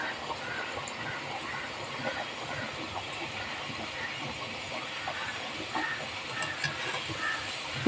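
Potato samosas deep-fry in hot oil, giving off a constant crackling sizzle with small pops, steady and close throughout.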